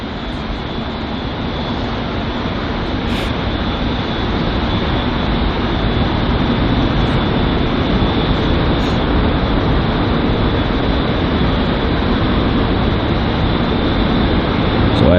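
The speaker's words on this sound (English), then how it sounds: "this next arrival here is another American Airlines Boeing 777, which is actually arriving from Los Angeles this time on its 9-hour and 30-minute long flight" An American Airlines Boeing 777 arriving from Los Angeles lands at London Heathrow, its steady, broad engine roar sustained and fairly loud throughout, heard from a distance with no one talking.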